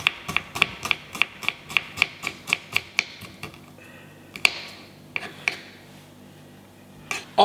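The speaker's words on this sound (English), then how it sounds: "just going to dice them as fine as I can possibly dice them" A sharp paring knife finely dices shallots on a board, tapping in a quick, steady rhythm of close, crisp chops that slows and scatters into a few irregular strikes.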